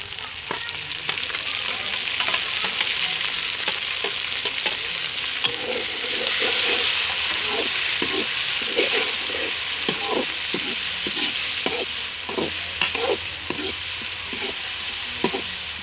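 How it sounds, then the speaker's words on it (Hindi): Onion, tomatoes and chilies fry in a pan with a continuous hiss of sizzling oil, while a utensil stirs and scrapes in a steady, repeated rhythm close by. "प्याज का कलर चेंज हो गया, अब हम इसमें डाल देंगे टमाटर, मिर्च वगैरह।"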